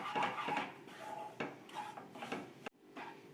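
Wheat flour is roasted in ghee in a pan, heard as quiet scraping and stirring of a utensil against the pan in irregular strokes, with no talk.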